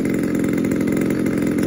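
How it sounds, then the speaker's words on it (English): A new DLE 20cc gas engine on a Hangar Nine Spitfire 60 model airplane runs during break-in, a loud, close, steady buzzing drone at constant throttle, heard alone without talk. "So I'm breaking the engine in."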